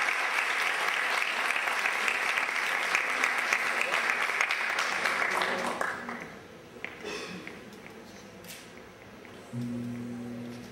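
Loud, sustained applause fills a school graduation ceremony hall for several seconds, then tapers off into a quieter room with scattered claps, shuffling and a short steady tone near the end.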